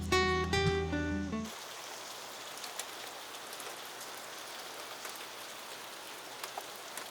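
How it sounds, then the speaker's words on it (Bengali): After a brief burst of music, heavy rain drums steadily on the roof of a wooden cottage in a hill village, a close, dense patter with occasional louder drops, continuing evenly with no voices. "আমাদের এই কাঠের কটেজের ওপরে এখন অঝরে বৃষ্টিপাত হচ্ছে।"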